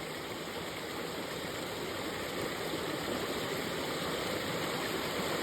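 A clear mountain stream rolls steadily over rocks on a cool spring day, its broad, unbroken rushing wash holding at an even level from start to finish, close by with no voices.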